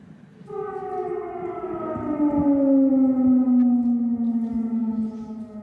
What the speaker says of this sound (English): Air raid sirens have sounded in Kiev